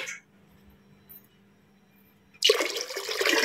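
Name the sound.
water poured into pot for cooking rice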